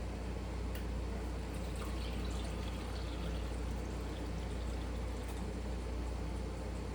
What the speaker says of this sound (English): now we're gonna add 2 cups of water to it.